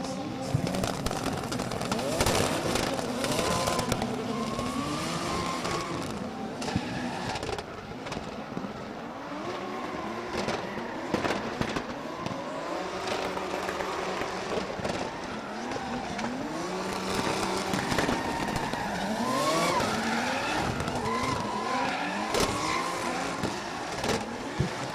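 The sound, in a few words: drift cars with exhaust bangs skidding around corner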